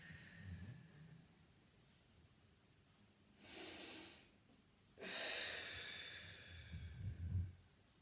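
Breathing out during a Pilates roll-up exercise: two broad, airy exhalations, the second longer and louder, close to the microphone, with soft low rustling of movement between them and no talk.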